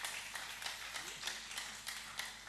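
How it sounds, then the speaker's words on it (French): A church congregation claps for the Lord at an evangelistic service. The claps are soft and distant, with a loose repeating rhythm of sharp hits over faint room noise. "Let's clap for the Lord."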